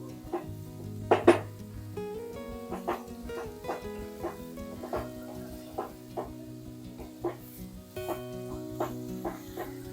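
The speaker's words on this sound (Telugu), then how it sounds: "బాగా ఫ్రై చేసుకోవాలి" Onions sizzle in oil in a non-stick pan for fish curry, a continuous frying hiss broken by repeated close knocks and scrapes of a spoon against the pan.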